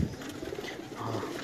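Pigeons in a Multan loft, old birds of a prized racing line, give low soft coos over a steady murmur of flock noise, fairly close and continuous throughout.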